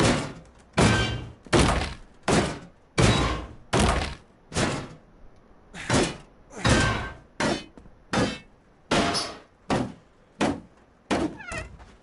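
Baseball bat smashing objects in the video game Dysmantle: a steady series of about fifteen heavy, close thunking blows, each a short loud hit with a brief decay, evenly spaced and alone without talk.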